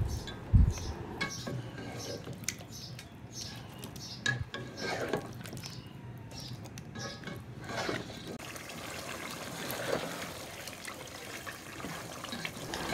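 Mutton and milk stirred in a pot for rezala, heard as soft, wet scraping and sloshing with a few light clinks of the spoon on the pot, fairly quiet and continuous.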